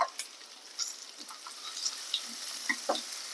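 Onions frying in a pan for vegetable soup, a faint crackling sizzle with scattered sharp pops and light stirring scrapes, close and quiet with no speech.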